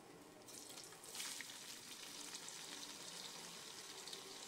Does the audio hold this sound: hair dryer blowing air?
no